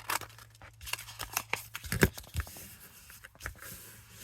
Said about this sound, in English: So let's try it to see if we can cut that out.